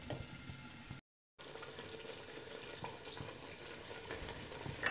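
Spices and yogurt fry in a pan for fish biryani, a soft, continuous sizzle with light stirring scrapes, fairly quiet and close, with one brief dropout near the start.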